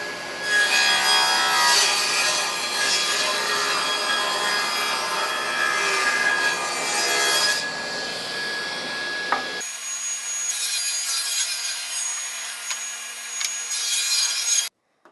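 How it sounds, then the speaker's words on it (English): A saw cuts a 3/8 by 3/8 inch rabbet into reclaimed barn wood boards for a rustic picture frame. It is loud and continuous, rasping for about nine seconds, then falls to a quieter steady run before stopping abruptly. "when I do some cuts with this, and we'll show you when I do this, that will give me a 3/8 by 3/8 inch rabbet"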